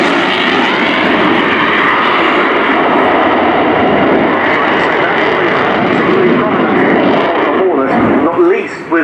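A Finnish Air Force F/A-18C Hornet roars through a display at RIAT 2018 with a loud, continuous jet roar that swells and shifts near the end, while a commentator's voice is mixed in.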